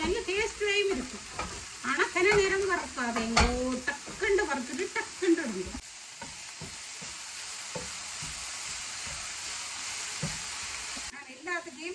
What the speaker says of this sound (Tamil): பச்சை மிளகாய் இதெல்லாம் போட்டு அப்படி வறுத்து விடுங்க